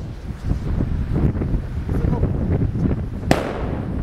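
Fireworks fired outdoors in an arctic storm: a steady roar of wind buffeting the microphone, broken near the end by one sharp, close crack of a launch, with voices faintly underneath.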